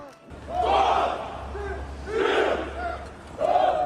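A large crowd of pro-Palestinian protesters at a university encampment in Los Angeles, linked arms against police, roars and chants in loud collective surges that rise and fall over a steady low hum.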